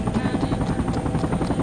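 A helicopter flies in the military game Project Reality, its rotor producing a loud, continuous rhythmic chop with a steady low throbbing drone throughout.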